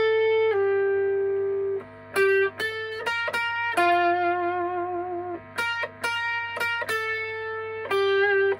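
A distorted electric guitar plays the melody of a song, sustained notes and short bursts with effects, alone and fairly loud with gaps between phrases.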